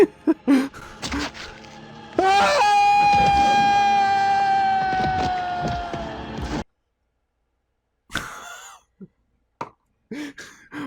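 Simba screams in The Lion King: a long, loud, sustained tonal cry that holds for about four seconds after gasping breaths, then breaks off into silence, followed by a few scattered short vocal sounds.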